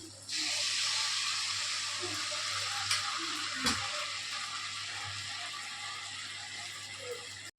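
Wheat appam sizzles gently in oil over a low flame, a steady soft hiss with a couple of brief pops and clinks partway through.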